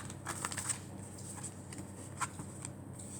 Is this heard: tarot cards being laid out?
yes